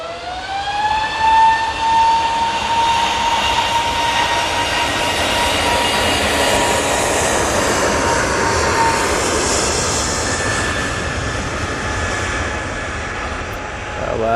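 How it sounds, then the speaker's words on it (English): An EasyJet Airbus A320 airliner departs Manchester Airport for Reykjavik, a loud sustained jet engine roar with a whining tone that eases downward, a broad rushing rumble holding for the whole stretch. "EasyJet A320 now departing off to Reykjavik"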